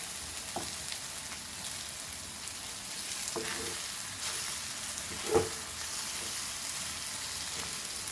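Goan squid masala fries in a pan with a soft, continuous sizzle and crackle, broken by a few light pops and one sharper clack of a spoon or pan partway through.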